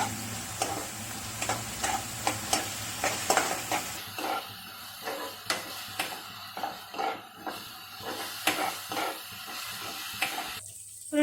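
Curry leaves fry in hot oil for a restaurant-style kaju paneer masala, a steady crackling sizzle punctuated by regular scraping strokes of a spoon stirring the pan, close and without voices.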